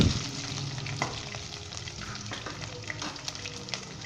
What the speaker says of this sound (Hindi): एक मिनट के लिए हम इसे फ्राई करेंगे।